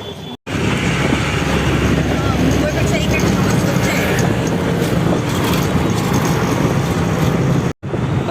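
Continuous loud rumble of an auto rickshaw ride near a station on the way to Titwala Mahaganpati temple, with steady engine and road noise and wind buffeting, cutting out briefly at the start and end.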